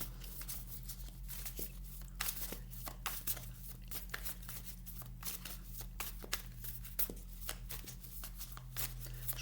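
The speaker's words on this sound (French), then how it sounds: "Je remélange bien le jeu pour vous." A deck of tarot cards being shuffled close up, a steady run of quick papery riffles and slaps lasting several seconds with no talking.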